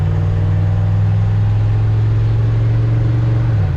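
A car after a TH350 to 700R4 transmission swap, its engine droning loudly and steadily as it pulls through a gear, with a dip near the end as the shift comes in.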